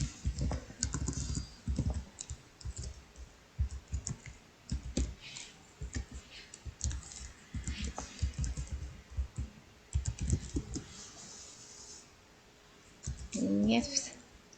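Someone types on a computer keyboard while setting up a website, producing irregular bursts of close, crisp key clicks and taps with short pauses between, with a voice speaking over parts of it.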